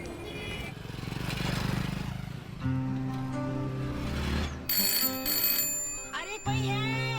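A telephone rings repeatedly in a scene from a romantic Hindi film, its electronic ringing tone sounding over music and background noise, with voices heard nearby.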